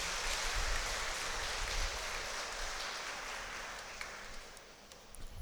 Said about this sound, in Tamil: கைத்தட்டி ஆண்டவருக்கு நன்றி